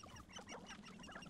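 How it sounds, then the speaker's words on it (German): Poultry in the Hogwarts Legacy video game, clucking and squawking in a quick run of calls across a dense, busy stretch with no talk. "Hühner."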